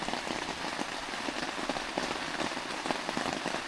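Steady rain drumming on a cheap camping canopy in a remote Appalachian thunderstorm, an even, constant spatter of drops close overhead with no voices.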